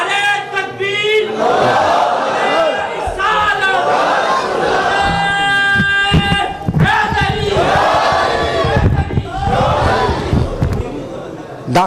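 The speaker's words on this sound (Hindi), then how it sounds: "उठिए जरा मोहब्बत के साथ नारे का जवाब दीजिए। नारे तकबीर" Crowd at a religious gathering shouting a loud unison response to the Naara-e-Takbeer slogan, several surging chant waves filling the clip alongside a leader's voice calling out.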